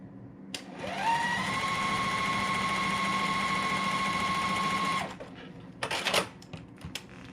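A sewing machine stitches a white fabric piece onto a quilt block, running in one steady, even hum for about four seconds before stopping and giving way to a few handling clicks.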